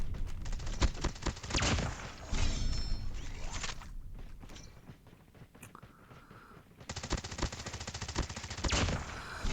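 A Switchblade SMG in a mobile shooter fires rapid full-auto bursts, loud and close, with two long sustained strings split by a short quieter gap of clicks and light movement.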